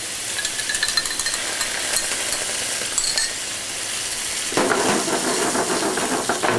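Veal stock poured into a hot pan, a steady bright hiss and sizzle that swells into louder bubbling simmer partway through, close and alone.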